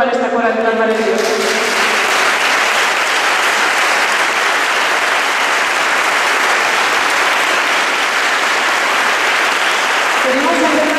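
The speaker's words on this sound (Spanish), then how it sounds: "Y un aplauso muy grande para esta coral tan maravillosa." Loud, dense applause from an audience for a choir, the Coral Valle del Roncal, sustained evenly for about ten seconds after a speaking voice, with a voice returning at the end.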